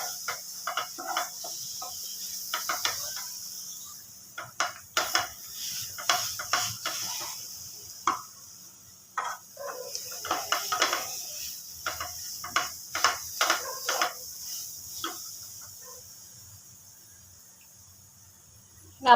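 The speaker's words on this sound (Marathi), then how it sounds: "ह्याला असं चांगलं मिक्स करत फिरवत राहायचे." A spoon scraping and stirring a coconut and mango laddu mixture in a pan over low heat, irregular clicking scrapes repeating at close range over a faint steady sizzle-like hiss.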